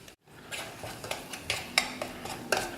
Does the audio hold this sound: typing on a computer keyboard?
no